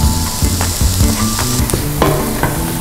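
Onions and coriander sizzle steadily in a pan while cooking for an Indian curry, with soft stirring scrapes and light music underneath, loud and close throughout.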